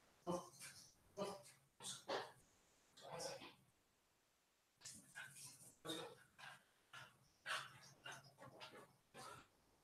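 Several dogs barking in short bursts with yips and whimpers, fairly close and agitated, the barks coming in an irregular series across the whole stretch.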